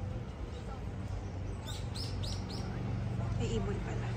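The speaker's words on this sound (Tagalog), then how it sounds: "May ibon pala." A small bird chirps a few quick, short notes at a distance, faint under low outdoor background noise on a spring day in Japan.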